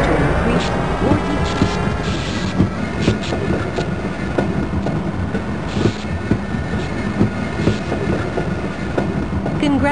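A train in the Half-Life video game rolls along with a steady, loud rumble, punctuated by rhythmic clicks and occasional metallic squeals, continuous throughout.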